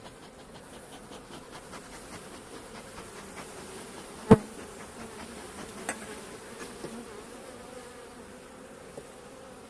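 Caucasian and Carniolan honey bees buzz steadily close to a beekeeper's mask as they attack it, a dense continuous drone with a few sharp taps of bees striking the mesh.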